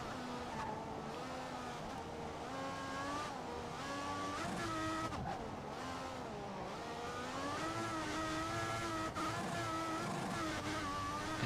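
A race car in the F1 2016 video game slides and loses the rear under braking. The engine drones steadily throughout, dipping and rising in pitch, heard faintly and alone.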